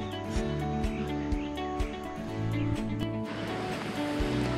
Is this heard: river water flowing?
yes